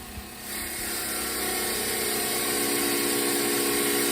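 Bicycle generator spun up by pressing it against a spinning wire wheel, a steady whirring hum that rises in the first half second and then holds constant and fairly loud, with no talking.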